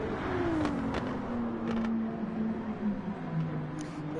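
Lexus race car in a racing video game at Circuit Gilles-Villeneuve, its engine droning steadily with a gradually falling pitch while sharp thumps mark the tyres striking curbs, loud and continuous throughout.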